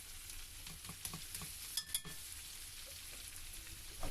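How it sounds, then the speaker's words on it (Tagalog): Pork ribs being stirred in a pan with soy sauce, oyster sauce and sugar: a quiet, steady sizzle with a few soft scraping clicks from the spoon, close but faint, with no voices. "So haluin lang po natin para magpantay po lahat ng mga inilagay natin na mga sangkap."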